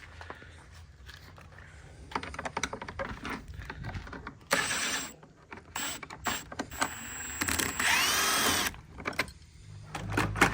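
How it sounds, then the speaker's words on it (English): A wrench works loose the fasteners on a Can-Am X3 side-by-side, giving close, uneven bursts of mechanical ratcheting and clicking separated by short quieter pauses. "Oh, here's that wrench we need."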